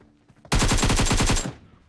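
A short, loud burst of rapid automatic gunfire in a battle royale game, about a second of fast, evenly spaced shots that end abruptly, heard alone with no voices.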